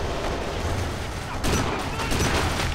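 Gunfire in the shooter game Kane & Lynch 2, dense loud bursts of automatic shots overlapping in a continuous barrage that swells louder midway.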